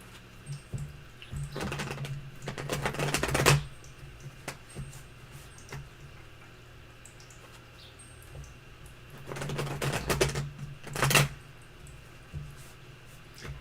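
Tarot cards are shuffled in two bursts of quick riffling flutter, a couple of seconds each and separated by a quiet gap, over a low steady hum with no speech.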